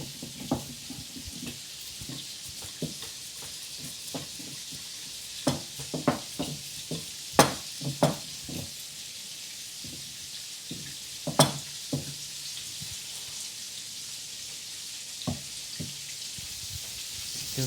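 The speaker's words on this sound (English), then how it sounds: "Give this a stir." Shrimp sizzling in a frying pan with lemon and spinach pasta, stirred with a steady frying hiss and a run of sharp knocks and scrapes of the utensil against the pan, close and alone.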